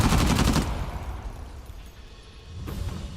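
Turret gunfire in the video game Uncharted The Lost Legacy: a loud, dense burst of rapid shots in the first half-second, then a rumbling, fading tail with a smaller impact near the end.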